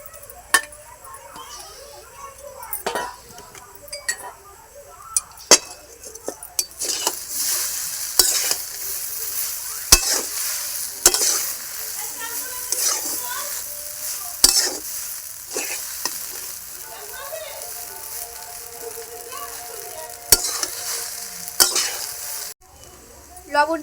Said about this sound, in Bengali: এটা আলু ভাজাগুলো দিয়ে দেবো।